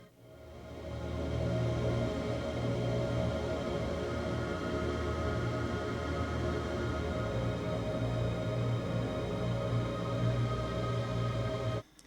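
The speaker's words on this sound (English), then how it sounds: "it does this weird transformation thing where it doesn't actually time stretch it, but it makes it sound really ambient and pad-like" MF DOOM loop stretched with PaulXStretch into a dense, sustained ambient pad: a steady, washy drone of smeared tones holding at a constant level for about ten seconds before cutting off abruptly.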